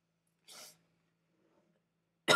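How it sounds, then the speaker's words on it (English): A person sneezes during a survival game session: a soft breathy burst early on, then after near silence a sharp, loud sneeze right at the end. "I sneezed."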